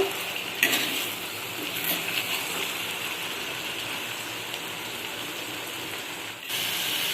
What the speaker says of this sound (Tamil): பீட்ரூட் எண்ணெயிலே கொஞ்சம் நேரம் வதக்கட்டும்